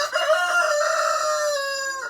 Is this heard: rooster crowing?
yes